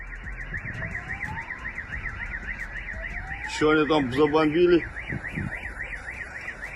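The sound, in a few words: car alarms going off after missile impact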